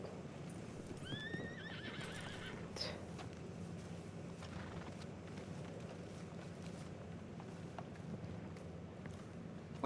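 Horses in Red Dead Redemption 2 whinnying loudly near the start, with hooves clip-clopping steadily underneath and other faint game ambience throughout.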